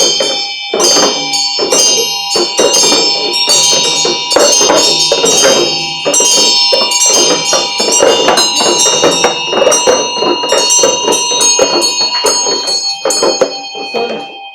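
Bright metallic bell struck repeatedly in a steady rhythm during a Chod ritual practice, loud and close, its ringing tones sustained throughout with sharp repeated strikes layered over the ongoing chime.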